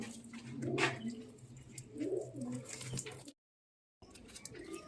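Domestic pigeons cooing in a house loft, soft repeated low coos up close, with a brief silent gap near the end.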